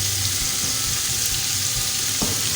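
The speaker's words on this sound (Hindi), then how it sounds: "इसको हम मिक्स कर लेंगे, हल्का सा इसको फ्राई करेंगे।" Garlic, ginger, salt and cumin fry in a pan over medium heat, giving a steady, close sizzle with a few soft stirring scrapes and no talk.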